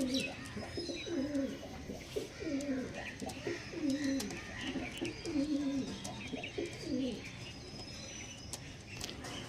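Punjabi pigeons coo in repeated low, rolling phrases, one call after another, with faint chirps from other birds above a steady background.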